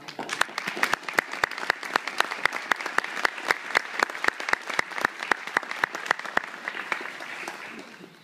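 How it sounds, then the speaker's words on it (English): Audience applause honoring law enforcement instructors at a ceremony, a steady wash of many hands clapping with sharp individual claps standing out, sustained and fairly close before tapering off at the end. "And a round of applause."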